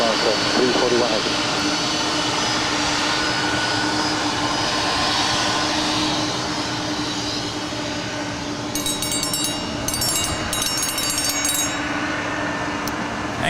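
A heavy jet airliner rolls for takeoff on runway 25L at Los Angeles International Airport, a loud, continuous engine roar filling the scene while air traffic radio chatter runs over it.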